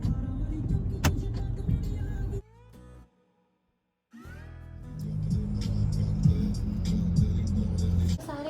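Car driving along a road with steady low engine and road rumble, broken by a brief quiet gap before the drive resumes louder; a window motor whirs at moments.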